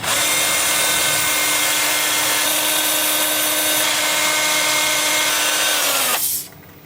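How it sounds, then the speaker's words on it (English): Loud, continuous whirring grind of a 2-inch 80-grit sanding disc on a drill, running in reverse at about 330 RPM on a turned wooden bowl, holding a steady pitch before cutting off abruptly near the end. "I'm going to start my sanding with a 2-inch sanding disc at 80 grit in reverse at about 330 RPM."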